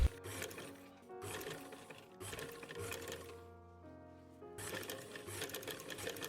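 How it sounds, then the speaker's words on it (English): A sewing machine stitches fabric lining for a doll dress, running in close, rapid mechanical bursts with brief pauses between runs. "I sewed the lining of the top part with the same fabric"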